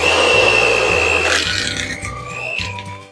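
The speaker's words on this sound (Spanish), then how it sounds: "La mantequilla la vamos a batir hasta que quede súper cremosita." Electric mixer beating butter until creamy for Christmas cookies, a loud close high-pitched motor whine that shifts pitch and drops off partway through, with no speech.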